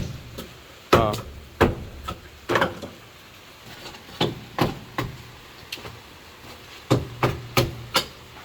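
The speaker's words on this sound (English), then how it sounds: "Your hammer's not grabbing so good." A hammer strikes repeatedly in uneven bursts on a beach house tiling job, sharp metallic knocks sometimes in quick pairs or triplets, fairly close with a quiet room behind.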